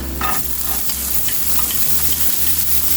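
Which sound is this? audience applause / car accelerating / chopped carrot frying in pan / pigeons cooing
chopped carrot frying in pan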